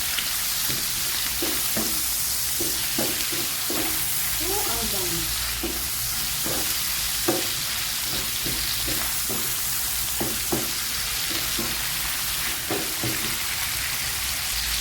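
Prawn sauce seasoned with black pepper and chicken powder is stirred in a hot pan, giving steady sizzling and frying with repeated soft scraping strokes of the spoon, close and continuous, with no talking.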